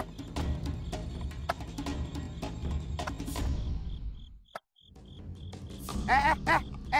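Crickets chirp in a dense, steady chorus at a cemetery where a grave is being dug. Scattered clicks and rustles run through it, a brief near-silent gap falls midway, and the chirping is faint and unbroken by speech.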